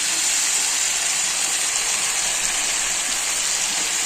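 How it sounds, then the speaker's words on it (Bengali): Tomato paste sizzles in a hot pan while butter paneer is being cooked, a steady broadband hiss that holds evenly and fairly loud throughout, with no voices. "টমেটো বাটা দিয়ে দিলাম"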